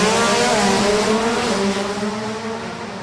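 Drag racing cars roar past at Maple Grove Raceway, a loud, sustained engine howl that fades slightly as they pass.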